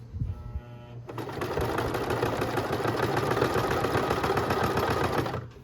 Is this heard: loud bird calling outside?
no